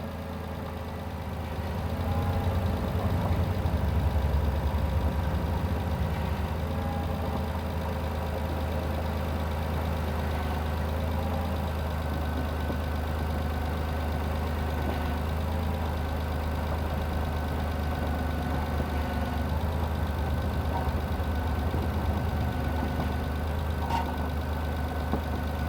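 A Mitsubishi Endeavor's engine idles steadily up close with a deep, constant hum that runs without a break, and the power steering pump whines faintly underneath while the wheel is turned back and forth.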